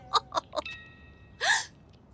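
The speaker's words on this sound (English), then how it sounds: "My hiccups have gone uncured." A cartoon character hiccups three times in quick succession, then lets out a louder breathy gasp or squeak after a short pause, all fairly close and clear.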